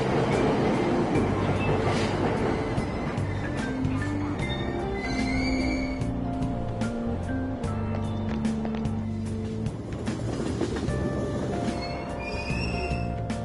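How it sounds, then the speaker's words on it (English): A train pulls away from a station platform in the video game Persona 5 Royal, a loud rumbling rush with squealing wheel and brake tones rising and falling over steady, continuous noise. "Train doors are now closing. Please stand back."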